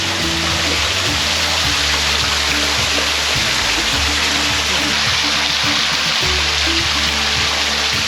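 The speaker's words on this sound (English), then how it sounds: "That's the waterfall as we come from." Steady roaring rush of a waterfall, loud and continuous, with a low hum underneath.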